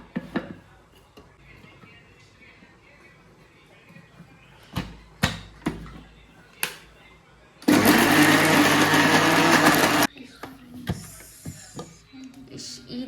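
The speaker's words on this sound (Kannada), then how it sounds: "ಈ ಥರ ರುಬ್ಕೊಬೇಕು" A mixer grinder whirs loudly for about two seconds while grinding masala for a home-style egg and chicken sambar, set among scattered kitchen knocks and clatter.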